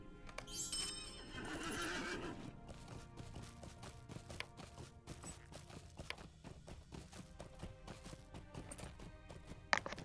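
A horse in the video game Lord of the Rings Online gives a loud whinny at the start, then its hooves clip-clop in a steady walking rhythm over several seconds.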